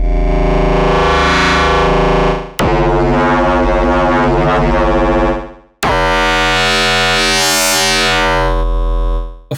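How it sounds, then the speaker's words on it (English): Loud buzzing Bitwig synth tones modulated by curves and a wavetable LFO, three sustained distorted notes with sweeping, ever-changing timbre, each cut off abruptly before the next. "if you use curves, or if you use the wavetable LFO, you can get crazier and even ever-changing kind of sounds."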